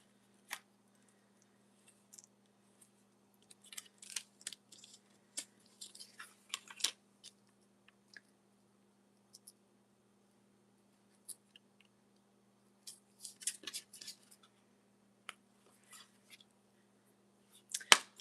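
Sparse, quiet snips and crisp cutting clicks come in small clusters with pauses as a paper panel is cut for a lavender-and-coffee journal cover, over a faint steady hum.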